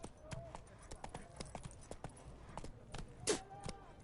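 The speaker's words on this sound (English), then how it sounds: "Whoa there, Roach" Horse hooves in a PS4 video game, a steady clip-clop gallop heard under game sound, with a voice talking over it.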